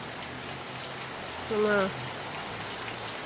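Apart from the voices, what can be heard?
monsoon rain falling in Kerala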